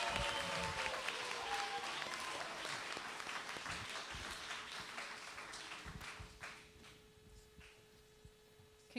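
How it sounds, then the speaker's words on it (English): A school spelling bee audience breaks into loud applause and scattered cheers for the winning speller, the clapping dense at first and then thinning out and fading toward the end. "Let's give her a big cheer."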